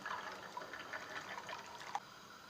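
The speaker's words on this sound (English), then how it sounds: "now I'm going to add in 1 cup of red kidney beans that I've washed and soaked overnight" Soaked, washed red kidney beans tipped into a pot of water, a soft splashing and trickling pour with small bright plops, fairly quiet and close, no talk.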